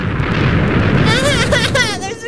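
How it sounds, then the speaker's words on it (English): Booming bursts and rumbling blasts from explosions in Minecraft, loud and continuous, with excited talking over them. "There's explosions!"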